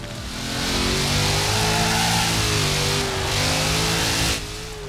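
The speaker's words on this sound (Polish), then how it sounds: "Jestem ciekawy, jak będzie się driftowało tym samochodem" A car engine roars in Forza Horizon 4 while drifting, revving loudly and steadily in a sustained whine that rises and falls with throttle before dropping off near the end.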